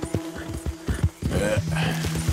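Horse in the video game Red Dead Redemption 2, with rhythmic hoof clip-clops and snorting sounds, fairly close and steady over a couple of seconds, with no talk.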